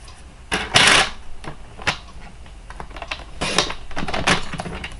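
Card stock being cut to size for a curvy fold card, a string of short crisp slicing and tapping strokes, irregular and close, with a louder burst near the start and a busier cluster toward the end.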